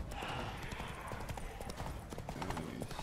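Roach the horse gallops in The Witcher 3 video game, a dense rapid clip-clop of hooves with a faint whinny, played under steady game ambience and a low voice.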